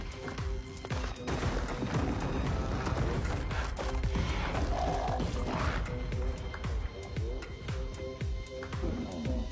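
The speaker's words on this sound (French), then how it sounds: "Dans une explosion de fumée, une avalanche de rochers écrase la plupart des chiens sauvages." A rockslide crashing down with a blast, dense irregular bursts of heavy impacts, cracks and rumbling tumbling over one another for several seconds, loud and close, tailing off toward the end.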